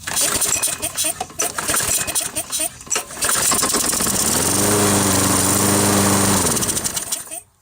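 A small lawn mower engine, just given a carburetor cleaning, is pull-started and fires up into a loud, steady running drone after some rattling, mechanical handling noise at the start.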